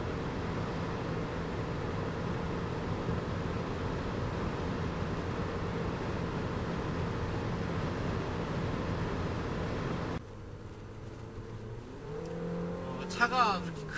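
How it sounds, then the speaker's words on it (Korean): A compact SUV accelerating with the pedal floored, heard from inside the cabin as a steady engine drone mixed with heavy wind noise, then dropping off abruptly near the end. "가속 페달은 끝까지 지금 밟아 있는 상태입니다."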